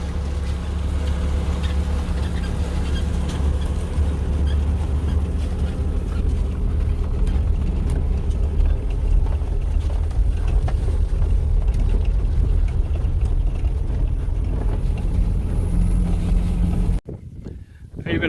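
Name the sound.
vehicle driving across grassy land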